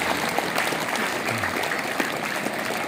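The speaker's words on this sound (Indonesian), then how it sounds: "Tepuk tangan buat Bapak." An audience at a muhadharah gathering claps steadily for a speaker, a dense patter of applause from many hands, moderately loud and sustained throughout.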